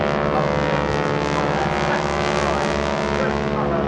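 Aircraft engines roar steadily and loudly through a wing-walking aerobatic display at the Sunderland airshow, a dense continuous drone with no pause across the whole stretch.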